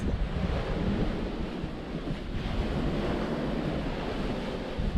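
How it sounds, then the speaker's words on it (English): Strong wind gusts blow across the water off Fraser Island near anchored sailboats, a loud continuous roar with buffeting wind on the microphone and a wash of waves underneath, steady throughout with no voices. "you can see all the big wind gusts going along the water out behind our boats"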